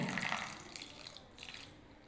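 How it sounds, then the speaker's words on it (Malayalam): Water poured into flour for appam batter splashes and trickles in a short, fairly quiet pour, with a brief second splash near the end. "ഇനി ഒരു ശകലം വെള്ളം കൂടെ അങ്ങോട്ട് ഒഴിക്കുവാണേ"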